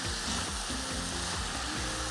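Shrimp and bell peppers sauté in a pan with a dense, steady sizzle and frying crackle, close and loud throughout, no voices.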